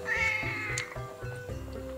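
A cat gives a loud, drawn-out meow close by, then trails into lower, softer caterwauling cries over the next second or so, with no talking.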